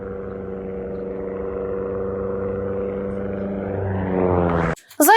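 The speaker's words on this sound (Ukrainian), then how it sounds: "Це останні секунди польоту російського легкомоторного літака." A Russian light aircraft in flight at Skhidnyi airfield in its final seconds before crashing, its engine a steady droning hum whose pitch climbs toward the end before cutting off abruptly, followed by a brief sharp burst.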